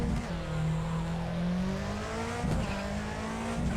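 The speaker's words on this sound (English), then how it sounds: "Oh, those turbos are glorious. That's social gearing. All those turbo chirps." A rally car's turbocharged engine revs hard and close at the Goodwood hillclimb, pitch climbing and dropping through gear changes, with sharp turbo chirps between shifts.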